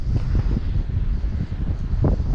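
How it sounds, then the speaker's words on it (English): Wind buffets the microphone beside a pond on a morning bass-fishing trip, a continuous low rumbling roar with uneven gusts swelling and easing, no talking. "This freaking wind that I can't stand."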